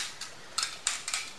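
A camping cook kit is handled up close, giving four or five quick, faint metallic clinks and taps with short gaps between them.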